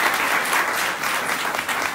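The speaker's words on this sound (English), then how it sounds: "Can we give them a round of applause?" Audience at a hotel cultural panel discussion giving a round of applause; dense, steady clapping from a room full of people, close and continuous for the whole moment, with no one speaking over it.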